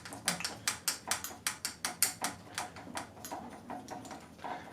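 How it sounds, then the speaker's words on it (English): Rapid mechanical clicking from a bowstring serving jig being spun by hand, a quick run of about twenty sharp ratchet-like ticks that gradually soften, close up with no voices. "And now I've got my jig tight, and we just start spinning."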